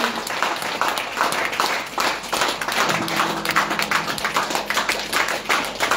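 A church congregation claps and cheers loudly and continuously, dense applause filling the space with voices mixed in throughout.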